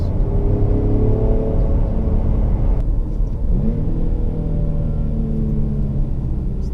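Infiniti Q70 with a 3.7 liter V6 revving while driving, a loud steady rumble with rising and falling engine tones heard from inside the cabin.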